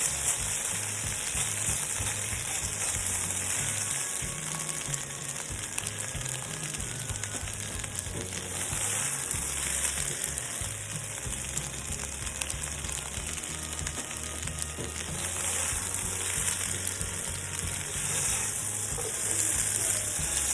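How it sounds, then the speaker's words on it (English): Beef steak pieces fry in a hot pan for a pepper steak stir fry, giving a steady, loud, continuous sizzle with faint stirring scrapes throughout and no talking. "we are just about ready to remove it from the pan and pan-sear the vegetables"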